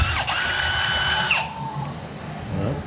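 A drill with a step bit cuts a hole while mounting LED whips on a side-by-side, giving a high whining drill tone for about a second and a half before it winds down to quieter handling noise.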